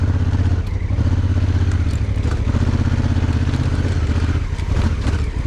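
A motorcycle rides across a field toward a campsite on the Zanskar road, its engine a steady, loud, close drone with rhythmic throbbing and some rattling clatter throughout.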